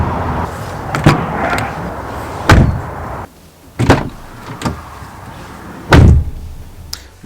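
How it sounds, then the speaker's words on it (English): Several solid Volvo V70 D5 car door thuds, spaced a second or two apart, each a short, heavy, muffled shut over quiet background noise. "I've never shut doors that just stop straight away."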